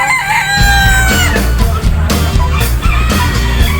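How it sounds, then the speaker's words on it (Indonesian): Harsh, rhythmic helmeted guineafowl calls repeat in quick pulses, loud and near, after the tail of an earlier drawn-out call. "kita ada ayam mutiara dari Afrika"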